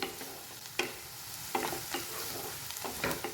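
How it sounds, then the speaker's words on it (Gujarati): Chopped onions sauté in oil for a capsicum curry, with a soft, even sizzle broken by several sharp scrapes and clacks as a spoon stirs the pan, quiet and close. "ડુંગળીને સરસ તેલની અંદર સાંતળી લઈશું।"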